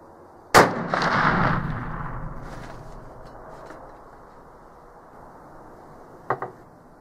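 Traditions Pursuit muzzleloader loaded with 100 grains of Blackhorn 209 powder and a 265-grain bullet fires once outdoors, a sharp loud crack followed by a long rolling echo that fades, then a couple of faint clicks near the end.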